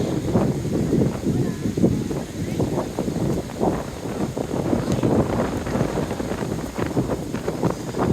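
Strong wind buffets the microphone in constant gusty rumbles, with rough sea surf in the background at the Barcelo Maya Riviera resort; faint voices may be present.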